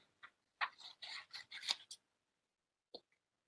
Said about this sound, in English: We're just going to run the scissors down like so.